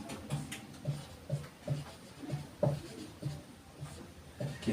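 Chalk or marker strokes on a classroom board, a steady series of short scraping taps at roughly half-second intervals, close and moderately loud with no voices.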